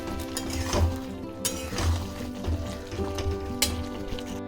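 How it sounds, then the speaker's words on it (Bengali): Vegetables frying and being stirred with a spatula in a pan in a home kitchen, a continuous sizzle broken by regular scraping strokes and occasional metallic clinks, close and fairly loud, with no talking. "খুন্তি দিয়ে নাড়াচাড়া করেই কষিয়ে নেব"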